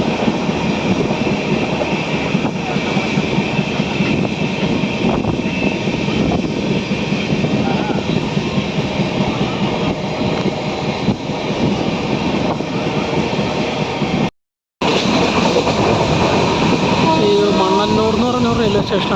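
Passenger train running along a Kerala railway route near Ottapalam station, a continuous loud rumble of wheels and carriage noise with rhythmic clatter, heard from on board, briefly cut near the end.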